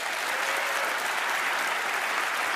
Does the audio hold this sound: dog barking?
no